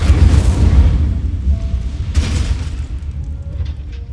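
An Incendio fire spell in Hogwarts Legacy bursts with a loud, deep booming blast, followed by a second whooshing flare and a low rumbling fade.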